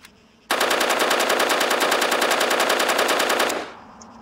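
CZ805 rifle firing in the video game Arma 3, one sustained burst of rapid, evenly spaced automatic shots lasting about three seconds, loud and close, then cutting off into quiet.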